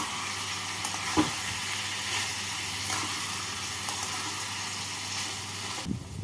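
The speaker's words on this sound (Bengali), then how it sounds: "স্ক্রাম্বল দিয়ে ভালো করে চিচিঙ্গার সাথে মিশিয়ে নিচ্ছি" Steady close sizzle of egg scramble frying with snake gourd (chichinga) in a pan, a constant crackling hiss with a couple of soft spatula knocks from stirring and no talk.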